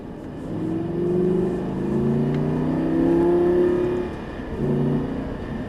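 A Lamborghini Gallardo engine in the Actua GT racing game revs up through a few rising, steady acceleration pulls, then dips briefly and climbs again. The engine is sustained and fairly loud, and no one speaks over it.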